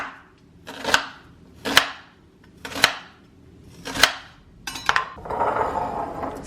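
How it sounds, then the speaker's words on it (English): A knife rough-chops red onion on a cutting board in five or six sharp, evenly spaced thuds, close and crisp, followed by a brief scraping sweep at the end. "So I'm just gonna do a rough chop."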